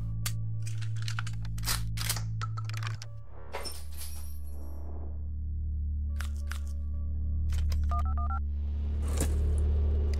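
Cell phone dialing tones in the Buckshot Roulette video game: short electronic beeps and button presses set over a low steady droning hum, with a brief rapid pair of tones near the end.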